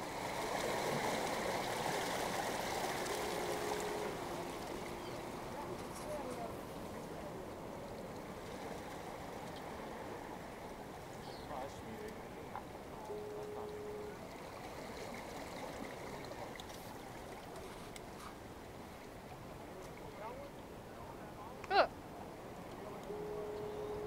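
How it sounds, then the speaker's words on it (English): Ocean waves at a rocky shore at Bodega wash in as a steady, moderately distant roar of surf, continuous with little variation apart from one brief sharp knock near the end. "And then the waves took it away."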